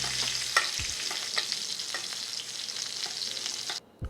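Steak sizzles hard in a tilted skillet while hot fat is spooned over it with herbs, garlic and shallot, a loud, steady crackling hiss with small spits that cuts out abruptly just before the end.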